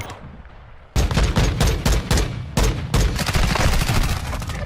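Video game gunfire that starts abruptly after a quiet second, loud rapid bursts of shots repeating in quick volleys with no pauses and no talk.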